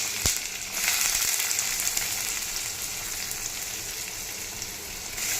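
Shallots and whole spices such as cinnamon and cumin frying in hot oil for a mutton curry, making a steady bright sizzle that runs continuously with a short quieter start.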